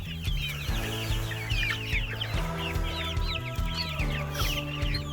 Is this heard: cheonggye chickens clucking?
yes